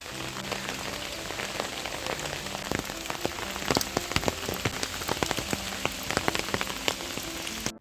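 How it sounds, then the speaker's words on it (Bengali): Heavy rain pours down in a loud, continuous wash, and countless sharp drops strike a nearby surface in an irregular patter, with no voices. "এখন না আবার ঝমঝমিয়ে বৃষ্টি হচ্ছে"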